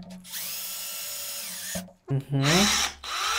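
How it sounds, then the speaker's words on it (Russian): A steady power drill whines for a couple of seconds drilling through a plastic bottle cap, stops, then revs again with a rising pitch; a short murmur of voice is heard between bursts. "а далее просто рассверливаем"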